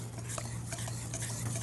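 A bourbon, paprika and whole grain mustard mixture is stirred in a bowl, a close, continuous scraping and swishing of a utensil with soft clinks and a low steady background hum.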